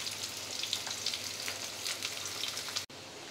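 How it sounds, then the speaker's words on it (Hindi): Potato pieces fry in oil over a medium-high flame, giving a steady, fairly faint crackling sizzle that breaks off briefly near the end. "आलू को हम 2 से 3 मिनट अच्छे से फ्राई कर लेंगे।"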